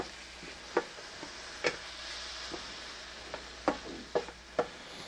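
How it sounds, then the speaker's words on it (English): Tomatoes and garlic cooking in butter in a pan: a soft, steady sizzle runs underneath, broken by several sharp clicks of a utensil against the pan at irregular intervals. "You're going to want to go ahead and cook the tomatoes and garlic for about 2 minutes."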